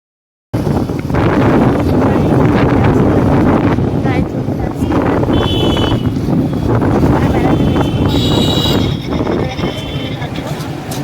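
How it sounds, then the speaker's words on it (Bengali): Strong, cold wind gusts roaring steadily outdoors at a fair, buffeting the microphone continuously throughout, with a voice speaking briefly beneath the rush. "কি প্রচন্ড হাওয়া হচ্ছে"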